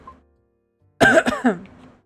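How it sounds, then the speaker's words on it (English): A throat clearing in a dark otome visual novel game, one short rough burst of two or three gravelly pulses, close and clear after a near-silent lead-in. "You clear your throat, a small sound, but enough to cut through the tension."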